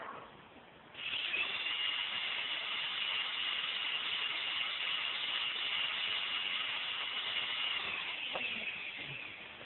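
A brushless drone motor driven by a Naze32 flight controller spins up and holds a steady, loud electric whine from about one second onward, continuous and alone with no voices.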